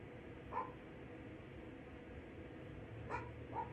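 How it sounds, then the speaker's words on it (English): Dog barking somewhere in the distance, three short faint barks spaced a few seconds apart over a quiet, steady background hiss. "Even as the dog barks, a sign of your protection, your spiritual protection."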